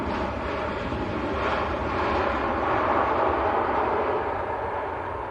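Lufthansa City airliner passing at Manchester Airport, a steady broadband jet roar that swells gradually toward the middle and eases slightly at the end, heard alone without talk.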